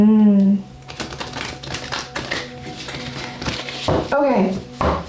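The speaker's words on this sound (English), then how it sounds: "All right, let's get one more shuffle." Tarot cards are shuffled by hand in a quick run of crisp tapping riffles, with a voice briefly heard at the start and again near the end.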